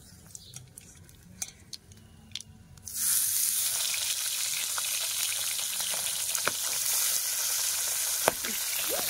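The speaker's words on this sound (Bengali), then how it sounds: "আর সব মাছ আছে, সব এক এক করে ভেজে নেব" Pabda fish frying in hot oil: quiet clinks and taps at first, then a sudden loud, steady sizzle with occasional pops and crackles, close up and without speech.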